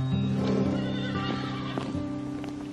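Horses whinny loudly at close range while hooves clip-clop steadily underneath, with several sharp neighs layered over the continuous hoof rhythm and no talking.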